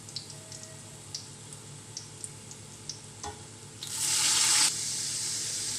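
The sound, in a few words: water being poured into a cooking pan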